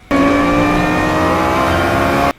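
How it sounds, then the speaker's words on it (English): A Lexus LFA's V10 engine roars loud and close, a sustained high-pitched howl that holds steady for about two seconds before cutting off abruptly. "the sound of the V10 engine roaring to life"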